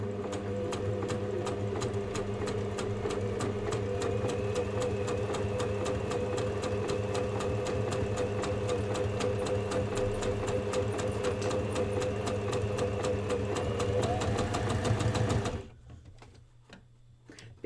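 A sewing machine stitches an outside pocket with contrast thread, its steady rapid whirring hum running continuously and loud, then stopping abruptly near the end to leave quiet.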